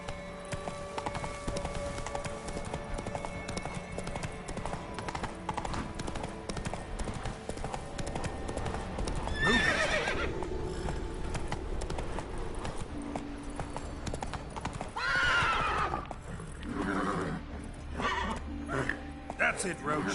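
Roach, a horse in The Witcher 3, gallops with steady hoofbeats and gives two loud whinnies, while a player talks over the game sound.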